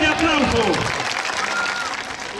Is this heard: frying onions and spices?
no